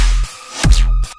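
Metallic Serum synth bass sound with a flanger, for a riddim-style remake: a low, buzzing tone cut by a sharp, bright swept hit in the middle, then the bass returns briefly, with no voices.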